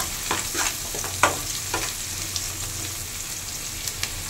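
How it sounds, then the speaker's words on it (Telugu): Ingredients sizzle in a pan while being stirred, a steady close frying hiss broken by several sharp scraping and clattering spoon strokes, with no talking. "కొంచెం ఫ్రై అయ్యేంత వరకు మనం వేయించుకోవాలి, పచ్చివాసన పోయేంత వరకు."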